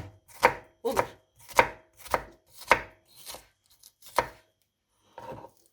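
A run of steady knife chops through onions on a board, close up outdoors in a village, seven quick strikes and then a pause before one softer final chop.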